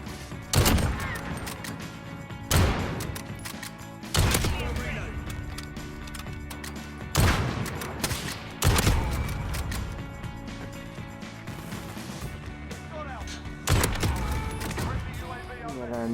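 Sharp video-game sniper rifle shots built for quick scoping ring out in a multiplayer match, about six loud separated blasts with ringing tails over a busy background of game effects and music.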